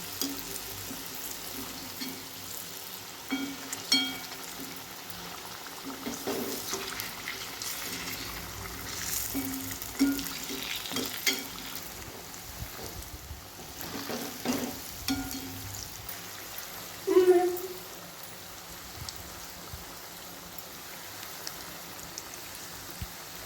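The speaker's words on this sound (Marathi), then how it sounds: "छान सोनेरी रंगावर आपण वडे तळून घ्यायचे आपण हे हळूहळू पलटून घेऊया" Dahi vada batter dumplings deep frying in hot oil, a soft steady sizzle and crackle with occasional pops as they are slowly turned, fairly quiet throughout.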